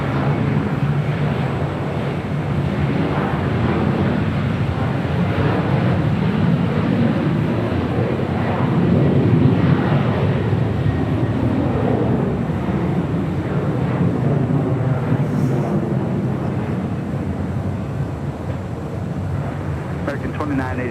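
Jet airliner taking off from runway 25 right at LAX, a broad steady roar with wind buffeting that swells slightly midway, heard at a distance beneath radio chatter and talk.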